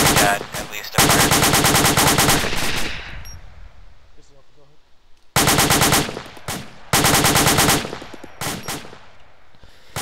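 Heavy machine gun fire in a military combat game rattles out in long, loud, rapid bursts, broken by short pauses with faint background radio chatter.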